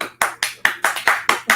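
Clapping at a gathering of women from the cigar trade: seven sharp, close, evenly spaced claps in a steady rhythm, with no talking over them.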